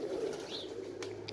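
Several pigeons coo softly in a low, continuous murmur, recorded outdoors in early spring amid gusty wind, with a faint higher chirp near the end.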